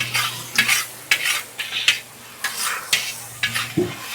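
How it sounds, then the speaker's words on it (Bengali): A fried fish head being stirred into sizzling spice paste with turmeric and cumin powder, made at a brick kiln in Ranaghat, Shibpur. Regular scraping strokes, about eight in four seconds, ring over a steady close sizzle. "এবার দিয়ে দেবো ভেজে রাখা মাছের মাথাটা।"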